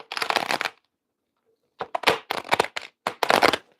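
A deck of cards is shuffled by hand in two bursts of crisp riffling, with a short pause between them and no talking.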